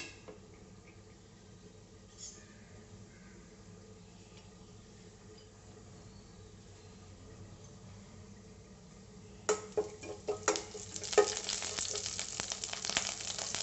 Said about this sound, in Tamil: சீரகம் நல்லா பொரியட்டும்.